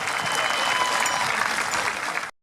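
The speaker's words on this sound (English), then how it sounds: "Round of applause there for Jake." A crowd at a Highland Games in the Peak District gives loud, sustained applause after a strongman event, steady clapping that stops abruptly at the end.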